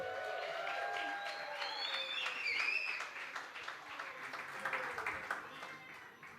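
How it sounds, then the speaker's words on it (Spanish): Church congregation applauding during a sermon, a steady wash of clapping that swells then eases over several seconds, with a few voices mixed into the crowd noise. "If you're going to clap every time I say something, it's going to take a long time."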